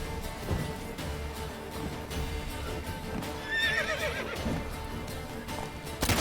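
A horse neighs loudly in The Witcher 3, one drawn-out whinny rising over hoofbeats and general game noise, with no talk over it.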